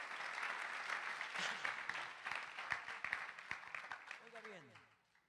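A church congregation offers a round of clapping, a sustained burst of applause with sharp individual claps that tapers off near the end as a voice speaks faintly underneath.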